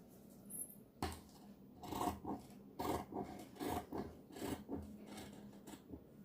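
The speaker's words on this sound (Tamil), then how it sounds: "இப்போ நம்ம பேக் பார்ட் வந்து கட் பண்ணியாச்சு." Fabric for a blouse back piece being cut, a quiet, close series of rasping strokes that come in uneven bursts.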